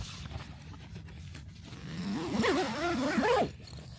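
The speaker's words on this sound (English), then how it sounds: "So when you zip it up," A heavy-duty zipper is drawn along the door of a rapid deployment tent, giving a close, rising rasp that lasts a second or so before stopping abruptly.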